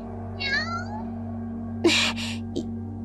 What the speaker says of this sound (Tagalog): Narito yung pusang nakita ko sa likod bahay.